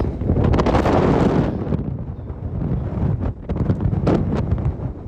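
Strong gusting wind during storm Pia outdoors in Viborg, loud roaring buffets hitting the microphone close up, surging and easing in uneven waves with no talk.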